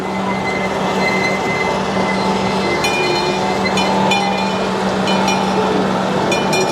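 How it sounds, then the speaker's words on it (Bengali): An amusement park train at a tulip garden in Pennsylvania runs close by with a steady, loud rumble, while sharp, high wheel squeals cut in repeatedly over the constant roll. "হচ্ছে আরেকটা ট্রেন"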